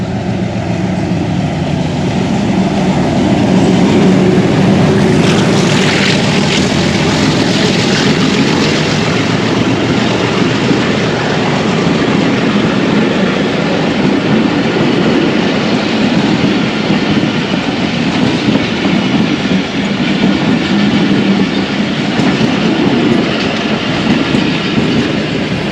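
The Pakistan Express, train 45, passes close by in Pakistan, producing a loud, continuous roar with rhythmic clickety-clack from the rail cars that lasts the full length without letup.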